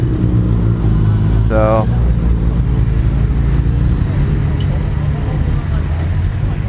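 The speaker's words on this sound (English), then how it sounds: "doing a group ride with about 40 bikes" Engines of a group ride of about 40 motorcycles in Taiwan drone steadily throughout, a dense, continuous rumble close by, with someone speaking briefly and a faint horn-like sweep near the start.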